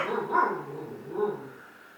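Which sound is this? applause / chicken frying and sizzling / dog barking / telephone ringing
dog barking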